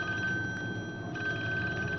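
A telephone rings steadily in a 1972 horror film scene, a bright electronic-sounding bell tone sustained over a low background hum, with no voices.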